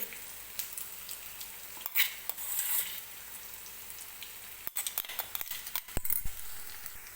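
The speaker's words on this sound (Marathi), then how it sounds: "हे वाटण टाकते मी आता" Ground masala paste of coconut, garlic and coriander frying with onion and tomato in a pan, giving a soft, uneven crackle and sizzle with bursts of stirring scrapes, fairly quiet and close, without any voice.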